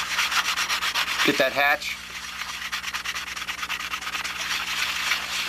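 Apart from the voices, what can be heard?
sanding with sandpaper on a model aircraft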